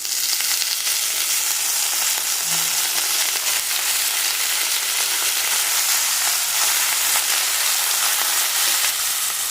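Chopped banana stem sizzles steadily in a hot pan while being stir-fried, a constant loud frying hiss with no one speaking.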